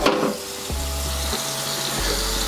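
A spatula being scrubbed clean, a rough continuous brushing hiss with a low hum that shifts pitch a few times, close and fairly loud, no talk.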